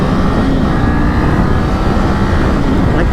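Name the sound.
Kawasaki Ninja 500 motorcycle accelerating on freeway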